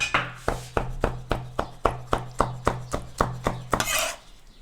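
Chopped roasted vegetables for a Turkish köz meze are dropped and pressed into a mixing bowl with a run of about fourteen sharp, evenly spaced knocks, close and crisp, ending in a brief scraping clatter.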